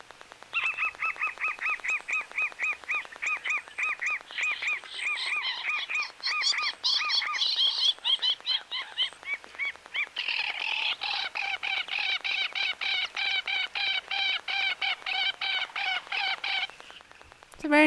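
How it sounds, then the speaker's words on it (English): An African jacana calls loudly and close, a long rapid series of sharp, repeated nasal notes that speed up into a dense chattering run before stopping abruptly. "they've got a very, very particular call, the African jacanas."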